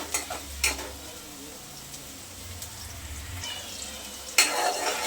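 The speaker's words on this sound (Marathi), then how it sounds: "कांदा आपल्याला हलका गुलाबी रंगावरती परतून घ्यायचा आहे जास्त ब्राऊन करत बसायचं नाही आहे थोडासा परतून घ्यायचा" Onion sautéing in a pan gives a faint steady sizzle, with a few sharp scrapes and knocks of stirring and a louder stir near the end.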